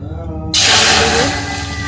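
A dal mixture hits a hot pot with a sudden loud, hissing sizzle that starts abruptly and stays strong before easing slightly, following a quieter moment of faint kitchen noise.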